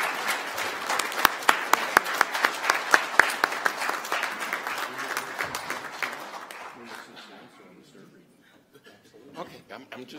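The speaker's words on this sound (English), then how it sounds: "if you could just give a great DAV welcome and round of applause to" Audience at a veterans' group Senate candidate forum applauds to welcome Senator Tammy Baldwin, brisk close clapping with a few loud claps that thins and fades out, followed by quiet murmuring.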